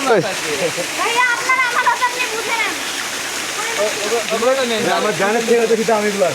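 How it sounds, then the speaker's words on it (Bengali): Shilbunia waterfall in Alikadam, Bandarban, pours down a rocky hill with a steady, loud, broadband rush. It runs throughout at close range while a person talks over it. "এটাই আমাদের শিল্পনীয় ঝর্ণা পাহাড় থেকে পড়তেছে"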